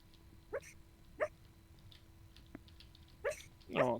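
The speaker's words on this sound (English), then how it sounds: "was that dream barking?" A sleeping dog's soft, muffled dream barks, a few short yips and woofs spaced apart, faint and close, ending in a longer whimpering burst, with no talking.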